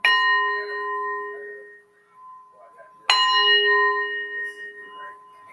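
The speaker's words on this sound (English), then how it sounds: "Wind chimes are good for clearing energy and bringing in good spirits" Metal wind chimes struck twice, each time ringing out with bright sustained tones that slowly decay, the second strike louder and fuller, heard alone and close.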